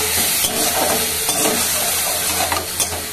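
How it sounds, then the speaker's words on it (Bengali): Masala paste of spices and turmeric sizzles loudly in a pan for greens curry, with continuous close frying crackle and intermittent scraping stirs, no talking. "মশলাটাকে কষিয়ে নিই।"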